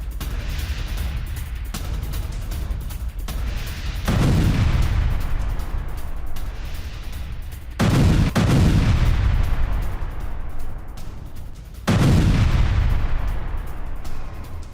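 Explosions from a Russian air strike on Ukrainian artillery in Kherson: three heavy, loud booms spaced a few seconds apart, each with a long rumbling decay, over continuous low background noise.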